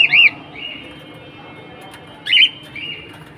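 A newly delivered pair of pet cockatiels and lovebirds give two sharp, whistling calls a couple of seconds apart, close by in a quiet room.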